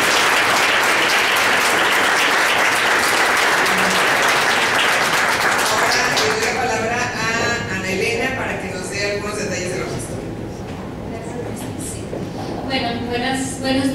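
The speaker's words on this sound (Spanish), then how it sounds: "le damos un fuerte aplauso." Audience at a values-education forum applauds after a doctor's lecture, loud sustained clapping that fades out after about six seconds, giving way to a speaker addressing the room with announcements.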